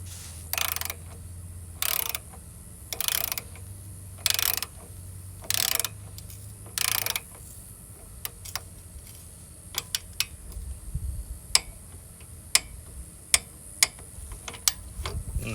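A ratchet torquing down the kickstand bolt on a Harley motorcycle: evenly spaced bursts of rapid clicking about once a second, then scattered sharp metallic ticks and clanks, close up with no talking.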